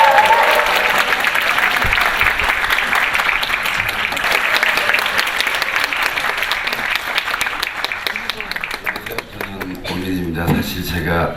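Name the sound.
audience applause welcoming a speaker on stage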